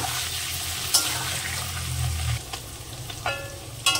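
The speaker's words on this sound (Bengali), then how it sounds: "তেলটা গরম হয়ে গেছে, ছেড়ে দেবো পনিরগুলো। পনিরটা সুন্দর করে ভেজে নেব।" Paneer pieces hiss and sputter in hot oil, a fairly loud sizzle with a low rumble early on and sharp crackling pops and stirring clicks, no voices.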